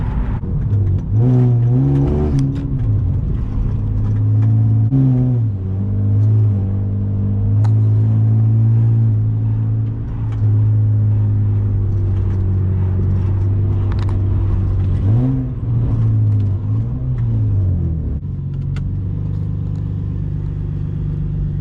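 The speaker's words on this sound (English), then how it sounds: "this car bring a little too much attention with the exhaust" A Honda Accord V6 with a modified exhaust idles with a deep exhaust rumble, revving up several times in bursts, loud and close throughout.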